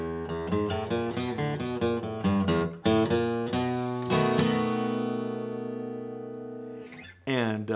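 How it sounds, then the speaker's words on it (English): A blues turnaround on guitar in E: a quick run of plucked notes and chord stabs, ending on a long ringing chord that slowly fades, then a brief restart. "Turnaround number three for a blues in E sounds like this"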